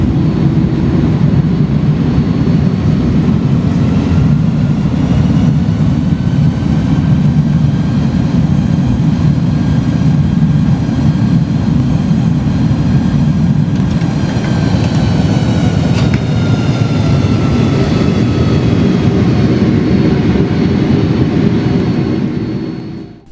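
An Airbus A310-300 jet in Thai International livery taxis after landing at Phuket in the X-Plane 11 flight simulator. A loud, steady engine roar and rumble runs throughout, with faint tonal whines above it, and no talking.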